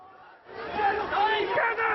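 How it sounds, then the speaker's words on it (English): A football crowd disturbance outside Anfield stadium, rising from quiet into a loud mass of shouting and chanting voices that carries on steadily, heard close and dense. "Crowd disturbances outside Anfield in April."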